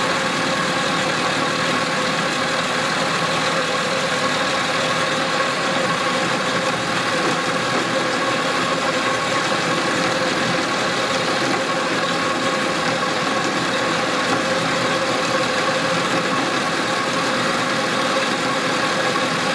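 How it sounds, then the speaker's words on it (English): A milling machine cuts aluminium with a sharp cutter and no coolant, a steady dense mechanical drone with grinding texture holding at constant loudness throughout, with no voices. "The cutter set up to give me the correct radius, so the milling machine is. Just starting to cut now."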